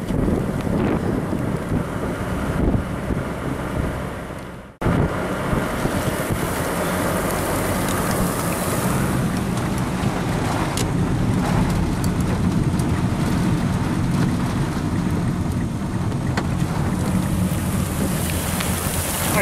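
Close-range EF4 tornado crossing open fields toward a highway, a steady broadband roar mixed with heavy wind buffeting and rain-like hiss, continuous and loud with a brief dropout near five seconds.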